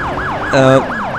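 A police car siren in GTA IV wails in a steady rising and falling pattern, loud and close, briefly overlapped by a harsher horn-like blast midway.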